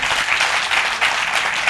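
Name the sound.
audience applause for poet Rajesh Chetan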